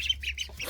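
Several ducks squawk in quick, overlapping bursts close by, harsh and excited, with no talk.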